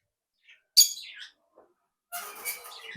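Pet green-cheeked conures and other parrots in a bird room give a few short, sharp chirps and a brief squawky burst, close by, separated by silence.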